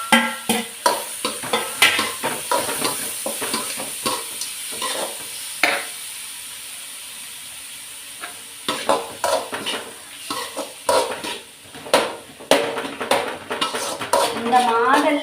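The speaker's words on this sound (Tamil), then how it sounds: "வெங்காயத்துக்கு உப்பு போட்டு நல்லா வதக்கி விடலாம்." Onions and cluster beans sautéing in a pan, with a soft sizzle under repeated clinks and scrapes of a spoon stirring against the metal, irregular and close, without speech.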